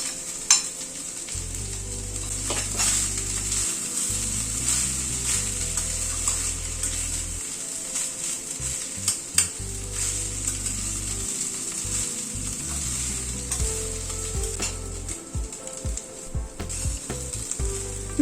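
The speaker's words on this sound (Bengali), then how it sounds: "ভাতটাকে প্রায় 4-5 মিনিট সময় ধরে সব মশলার সাথে কষিয়ে নিলাম।" Rice with spices and paneer stir-fried in a pan sizzles steadily up close, with scraping stirs and occasional clinks of the spatula over a continuous frying hiss.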